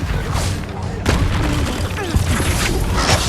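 Incendio fire spell cast in a Hogwarts Legacy duel, loud booming bursts and crackling blasts packed together over dense battle noise, with a few short voice shouts mixed in.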